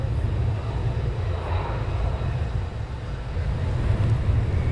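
An F-35 jet taxiing at RAF Coningsby during a NATO exercise, heard as a distant, low steady engine rumble and hum mixed with breezy wind noise on the microphone, fairly quiet and unbroken.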